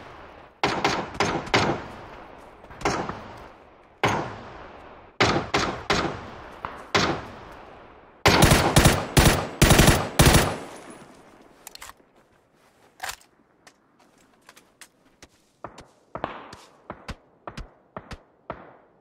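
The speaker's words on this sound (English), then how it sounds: "don't know where they're shooting from, but they just shot the bot I killed in the street right in front of me" Apex Legends gunfire in sharp, loud repeated bursts: spaced single shots, then a rapid volley, then scattered quieter distant shots near the end.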